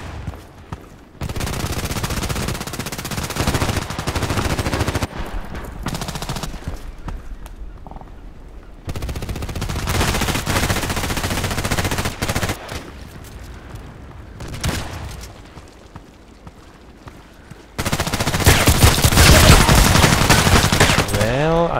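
Shots from an H&K 416c rifle in the shooter game Contract Wars come in several loud stretches of gunfire separated by quieter gaps, with the heaviest, densest firing near the end.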